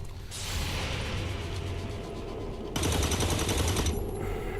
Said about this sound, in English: our guys should They spotted us. launch into Overwatch shooting.